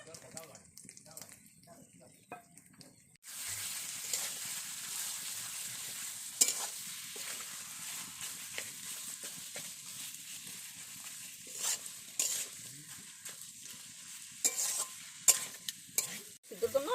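Chicken pieces fry in a hot pan, a steady sizzle that turns louder once the meat goes in, broken by scraping stirs and occasional clatter from the spoon.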